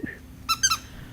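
A dog's rubber squeaky toy gives three quick, sharp, close squeaks in a short burst, with a faint voice just before in a backyard.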